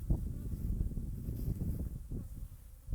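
Honey bees hum low around hive boxes in a savanna apiary, a steady close drone with soft wind buffeting the microphone and no talk.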